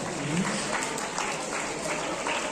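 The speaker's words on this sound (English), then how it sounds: "Round of applause." Audience applause at a school National Maths Day celebration, a steady dense wash of clapping filling the room throughout, with faint voices mixed in.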